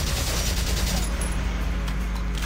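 Sustained gunfire from a Valkyria Chronicles battle over a deep, constant rumble, with a dense crackle of shots that thins slightly toward the end.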